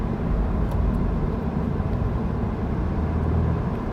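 A 2024 Toyota GR86 Premium engine pulls at about half throttle in second gear, a loud, steady low drone with road roar heard from inside the car throughout.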